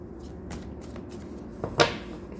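Tarot cards are shuffled close by in a few soft riffling bursts, ending in one sharper snap of cards in a quiet room.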